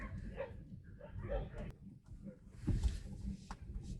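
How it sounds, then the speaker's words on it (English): A dog barking on a street, with short yips and barks mixed in among low background noise and a person talking nearby. "Oh, there's a dog."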